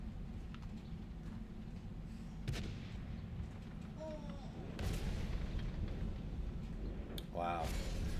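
Tank in a video game firing HEAT shells, heard as a few booming cannon shots spread over several seconds above a steady rumbling background, with faint speech in places.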